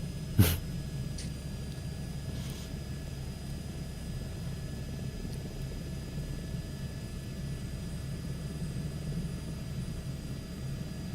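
Helicopter engine drone in Microsoft Flight Simulator 2024, a steady low rotor and turbine hum running throughout at moderate level, with one sharp brief knock near the start.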